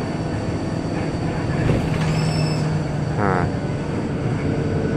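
Regular Transjakarta city bus on a toll road, its engine droning steadily with a brief hiss and a rising whine from the brake system, loud and close inside the cabin with no talk.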